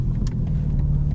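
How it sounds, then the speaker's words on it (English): A continuous low rumble of a moving car with a faint scraping, rubbing noise from a front fender liner rubbing on the tire, steady throughout the short moment. "Hear the fender rubbing."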